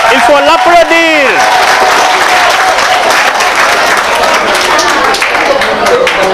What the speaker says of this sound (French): on peut l'applaudir encore. Il faut l'applaudir.